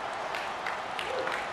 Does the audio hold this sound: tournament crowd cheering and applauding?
yes